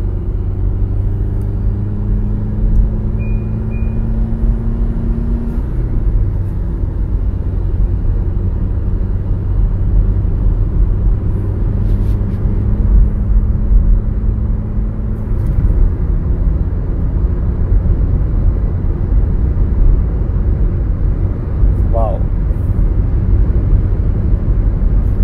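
Mahindra Marazzo engine accelerating hard on a sprint run, a loud, steady close-up drone with audible gear shifts partway through and no talking.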